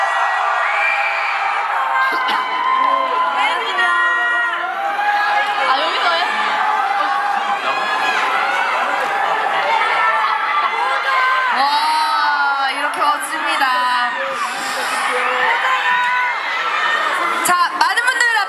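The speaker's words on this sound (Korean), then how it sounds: "큰 박수 함성으로 맞이해주세요" A crowd at a K-pop guerrilla concert cheers and screams continuously, with dense high shrieks and chatter, while a voice speaks over the noise.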